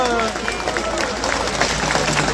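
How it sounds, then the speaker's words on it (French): A crowd claps steadily in dense applause at a political speech, with a voice briefly heard over it at the start. "On peut le saluer, l'applaudir encore une fois."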